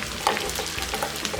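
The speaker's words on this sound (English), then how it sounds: "Give it a nice little stir." Pork and beans being stirred into a chili cheese dip with ground beef in an Instant Pot, a soft, close, continuous wet scraping and sloshing that lasts a moment without talk.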